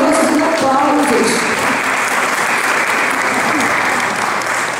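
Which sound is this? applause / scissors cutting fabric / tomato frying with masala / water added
applause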